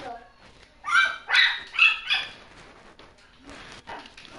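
A dog barks in a video game, four or so sharp barks in quick succession near the start, with a player's voice talking over and after them.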